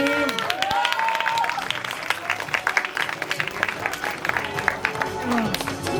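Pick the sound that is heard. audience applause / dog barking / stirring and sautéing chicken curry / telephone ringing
audience applause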